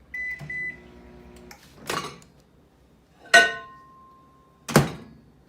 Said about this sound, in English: we're going to go ahead and turn it on for 1 minute